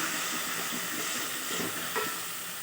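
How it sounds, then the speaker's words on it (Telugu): Chopped tomatoes soften in a hot pan with coriander powder and a little chopped coriander, giving a steady close sizzle and gentle frying hiss with faint stirring, no voices. "నెక్స్ట్ పావు టీ స్పూన్ ధనియా పౌడర్ వేసేసుకొని మనం టమాటోస్ని సాఫ్ట్ చేసేసుకుందాము"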